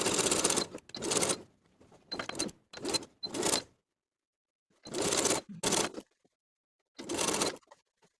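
Sewing machine stitching bias tape in line with a pressed crease on a weekender bag, running in several short bursts of whirring separated by brief silences, close and clear.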